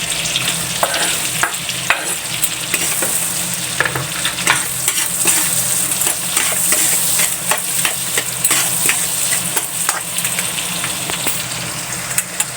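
Garlic sizzling and frying in margarine in a pan, with a steady loud crackle throughout, broken by frequent clicks and scrapes of stirring.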